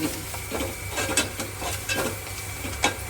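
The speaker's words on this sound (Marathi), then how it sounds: "फोडणी तर जरा ती कशी परतवून घ्यायची" Close sizzle of spices in hot oil, punctuated by repeated scraping and clinking of a spoon stirring in the pan.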